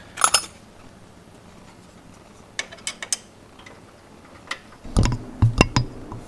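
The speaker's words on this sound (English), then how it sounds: "So I'm just going to put the nut on. Alright, put a wrench on that." Wrench tightening a nut onto the brake cable of a Billy Goat mower, giving scattered sharp metallic clicks and ratcheting taps, sparse at first and then a denser burst of close clanks near the end.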